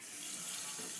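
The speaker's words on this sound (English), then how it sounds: "Okay, now, if you turned on the water like I'm doing," Tap water pours steadily into a Coke can in a sink, a brief, even, hissing splash with no talk.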